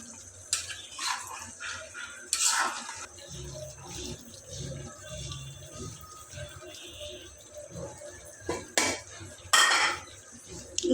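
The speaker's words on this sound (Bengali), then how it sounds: "এখন এটাকে ভালোভাবে মিক্স করে নিতে হবে" A spoon stirs olive pickle in a metal pan, with repeated scraping and clinking of metal on metal in uneven bursts, close and fairly loud, against a quiet background.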